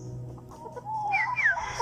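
A Black Tanaka gamefowl stag clucks in a breeding pen. A few soft, close clucks end in a short rising call, over a low steady background hum.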